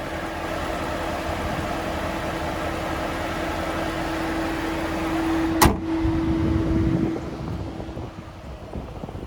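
A 2020 Chevrolet Camaro LT1 convertible's 6.2-liter V8 rumbles low and steady with the top down, broken by one sharp burst partway through before the rumble fades.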